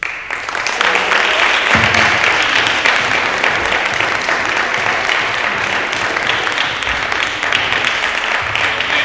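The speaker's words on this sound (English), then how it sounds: "a big round of applause to these 8th grade gentlemen" A school athletic awards crowd applauds after an award announcement for eighth-grade boys, giving loud, sustained, dense clapping that fills the room from start to finish, with a few faint voices mixed in.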